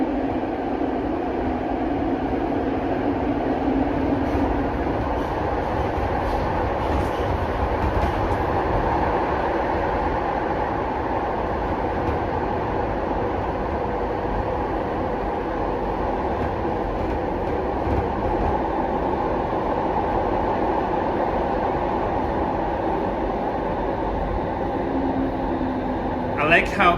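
Toronto Line 5 Eglinton Crosstown LRT train riding: a steady, loud interior rumble of the light-rail car rolling along, continuous throughout with faint clicks and a brief rise near the end.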